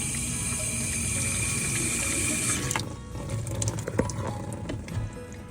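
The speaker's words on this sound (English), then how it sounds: "You add some water." Water pours steadily from a tap onto a printing tray for a few seconds, then cuts off, leaving soft splashes, drips and handling clatter at close range.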